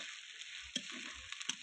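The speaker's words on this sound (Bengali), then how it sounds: "ভালো করে কিন্তু ভেজে নিতে হবে পেঁয়াজটা।" Onion fries with meat in a pan, a faint, steady sizzle broken by a few soft scraping and clinking stirs, heard close with no talking.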